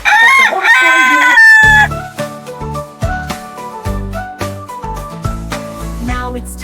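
A rooster crows loudly and alone, a long rising and falling cock-a-doodle-doo call, followed at once by bright children's music.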